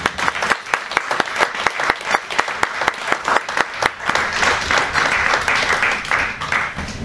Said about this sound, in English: please give a round of applause to Her Excellency Dr. Arikana Chihombori Bao to the podium